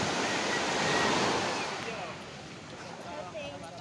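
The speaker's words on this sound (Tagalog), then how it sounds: "Medyo kalmada ang ating dagat ngayon" Calm sea waves wash steadily along a shore on a fine day, a broad continuous surf rush that swells slightly then eases, with no voices.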